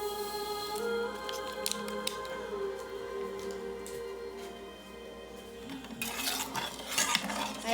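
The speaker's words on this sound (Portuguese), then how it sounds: "Aí é só misturar bem assim. Mistura bem." A utensil stirs a dough mixture of oil and bread yeast in a bowl, tapping and clinking lightly against the sides over a steady tonal background, then scraping harder and louder near the end.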